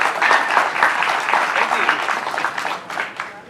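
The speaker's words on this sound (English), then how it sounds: "Give him a huge round of applause" Applause at a Halloween Horror Nights 25 media preview event as a guest named Charles Gray is welcomed, a dense sustained crowd clapping that stays fairly loud and steady throughout, thinning slightly toward the end with voices mixed in.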